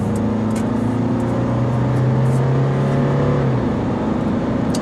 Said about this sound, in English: now we turn right onto the highway, and let's go full throttle